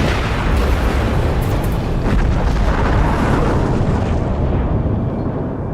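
A loud, sustained explosive rumble from a bomb-laden car blowing up in a movie, with dense low-end roar, holding steady for several seconds before the high crackle fades.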